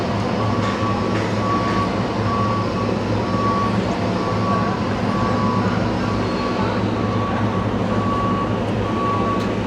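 A truck manoeuvring on a construction site, its engine a steady low rumble throughout while a reversing beeper repeats at regular intervals; no one speaks.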